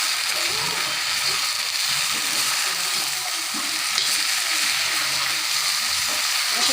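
Boiled drumstick leaves frying with a generous amount of onion in a pan, a steady close sizzle with soft scraping stir sounds throughout and no talking.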